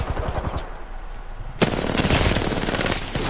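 Apex Legends gunfight, rapid automatic gunfire bursts, with a sharp crack midway and then dense sustained firing, loud and close throughout.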